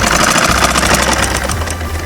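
A sewing machine runs steadily, stitching a border along the very edge of a dupatta, a loud close mechanical whir with rapid needle knocking and no pauses.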